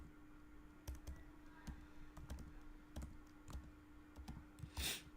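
Keyboard typing while writing Salesforce Apex test code: irregular bursts of key clicks scattered across the stretch, close and moderately loud, with a steady background hum and no talking.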